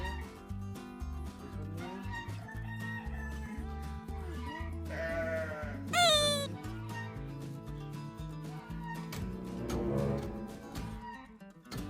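A goat bleats in a wintry farm enclosure, with a sharp, loud cry around the middle and softer calls over steady background music.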